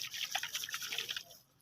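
Water sloshes inside a coconut shaken at a vegetable market: quick, close liquid splashes for about a second that then fade out, with no talk.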